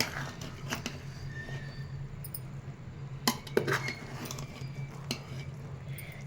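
Chicken dum biryani rice is slowly mixed in a pot, with a spoon giving faint, scattered clinks and light scrapes against the metal and small irregular taps in between.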